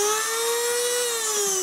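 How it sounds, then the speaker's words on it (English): A 3mm drill bit spins at high speed cutting fibreglass (GRP), giving a loud, steady high-pitched whine with a bright harmonic tone, alone and without talk. "A 3mm drill will cut perfectly, especially in a drum wall at high speed."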